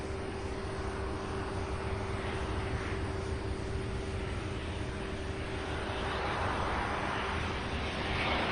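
A 22-year-old Southwest Boeing 737-700 arriving at Louisville airport from Orlando, a steady broad distant engine roar with a constant tonal hum, swelling slightly toward the end.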